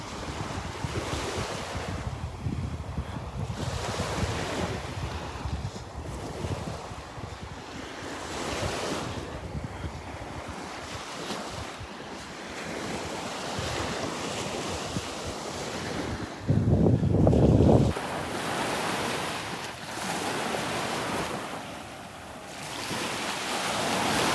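Ocean surf and wind at Delnor-Wiggins beach, a steady broad wash of breaking waves with gusty wind buffeting the microphone, including a loud burst of wind noise near the end.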